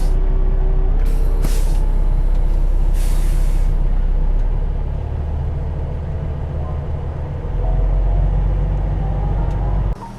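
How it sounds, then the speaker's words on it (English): An 18-wheeler semi truck backs toward the kingpin of its trailer, its diesel engine rumbling loudly and close throughout while sharp air-brake hisses burst out twice early on. "Now we're gonna go ahead and back up the truck."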